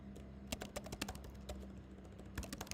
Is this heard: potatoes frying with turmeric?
no